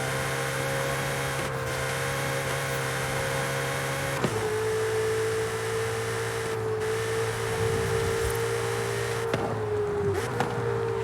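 The power convertible roof of a Ferrari Portofino opens in Forza Horizon 5, a steady electric motor whine that shifts pitch partway through and runs on with a few small clicks, heard alone and up close.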